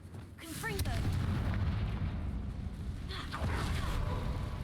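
A Confringo fire spell blasts off in Hogwarts Legacy, a loud, sharp burst with crackling, followed by a second fiery impact a few seconds later over a rumbling battle background.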